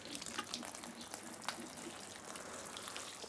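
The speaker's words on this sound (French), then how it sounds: "il ne faut pas hésiter à bien arroser" Water poured generously onto potting mix for seedlings, a soft, steady splashing trickle with faint droplet patter, heard close and quiet, with no talking.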